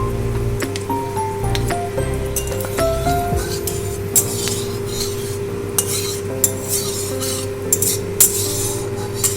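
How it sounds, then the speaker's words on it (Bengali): Whole spices (dry red chili, cinnamon, cloves, cardamom and a bay leaf) are tempered in a pan, with sharp metallic clinks and scraping stirs over a low steady hum and a faint background sizzle, close by throughout. "এবারে ভালো করে ফোড়নটা আমি ভেজে নেব।"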